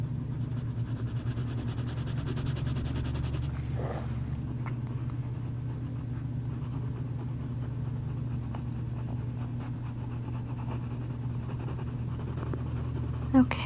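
Colored pencil strokes on paper while coloring in a drawing of a witch, a soft continuous scratching close to the microphone over a steady low hum, with a brief louder scrape near the start.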